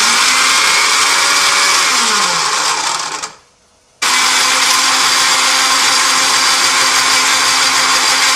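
A blender grinds peeled tomatoes into pizza puree, a loud harsh motor roar that cuts out abruptly for under a second of near silence, then starts again at full strength.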